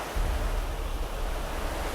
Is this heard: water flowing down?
yes